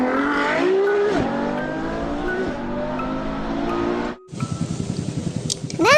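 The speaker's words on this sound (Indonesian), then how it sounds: "Mobil balap." Toy race car sound effect, a loud engine whine that revs and shifts through rising pitches, then a short break and a rougher, sputtering motor with a sweeping screech at the end.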